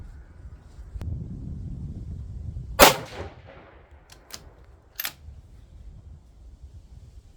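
A rifle chambered in 6mm ARC fires a single sharp, loud shot outdoors, followed by a couple of fainter metallic clicks and clanks, with wind rumbling on the microphone throughout.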